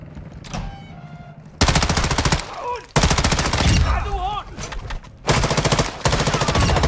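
Rapid automatic gunfire in the video game DMZ, loud and close, coming in several long sustained bursts separated by brief pauses, with a voice talking faintly in between.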